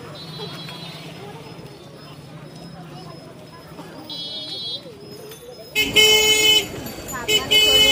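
E-rickshaws (totos) on a badly broken, waterlogged village road honk in short, loud toots that start after a few seconds, over traffic and people talking nearby.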